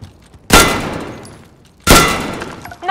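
Two loud, sharp gunshots ring out about a second and a half apart in a video game tutorial, each with a long decaying tail, and a third shot begins at the very end.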